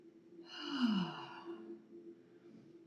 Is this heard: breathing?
yes